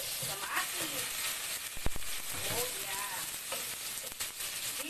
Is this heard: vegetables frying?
yes